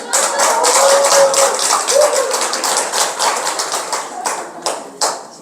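Audience applause at a Buddhist lecture on Seon culture and ganhwa meditation at Songgwangsa temple's Buddhist college, a dense, steady wash of many hands clapping that thins out toward the end into a few scattered final claps.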